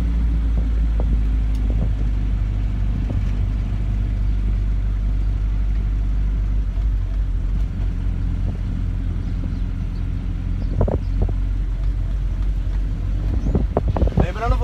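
Low, steady engine rumble of a boxy Volkswagen Voyage car being driven out of a garage, close and continuous, with faint knocks and scrapes toward the end.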